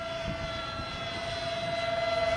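A twin 70mm jet engine A-10 model airplane flies past on its first flight, a steady whining engine roar that swells slightly louder toward the end.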